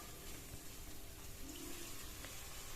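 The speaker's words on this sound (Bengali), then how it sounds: "কষাতে কষাতে সামান্য একটু জল দিয়ে দিচ্ছি।" A little water poured into spices being fried for matar paneer, a steady soft wash of liquid over the sizzle of the pan, close and fairly quiet.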